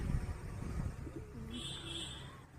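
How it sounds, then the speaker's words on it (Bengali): A sick pigeon with a pus-filled swelling on its nose gives a soft, faint coo, heard alone over quiet background noise. "এটা দোয়াজ পায়রা।"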